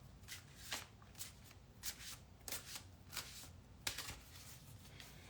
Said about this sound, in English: So I'm going to shuffle the cards one more time.